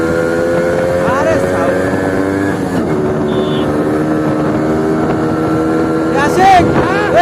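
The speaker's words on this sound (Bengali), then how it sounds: "বটিয়া ঘাটের এই ফাঁকা রাস্তায় বাইক টানতে অনেকই মজা লাগে" A motorcycle without a dB killer accelerates hard on an empty road in Batiaghata, its loud raw engine note climbing and falling through the gears close to the microphone, with wind rush.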